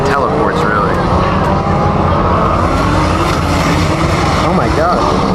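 A 1,700 hp twin-turbo, all-wheel-drive-converted Lamborghini Huracán STO launches hard at a supercar meet, its engine roaring loud and sustained throughout, with people talking over it.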